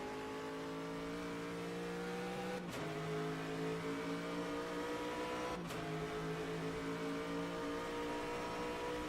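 An Aston Martin Vantage GTE race car at Sebring at night, its engine holding a steady, loud tonal drone with two abrupt shifts in pitch, heard continuously from onboard with no talk.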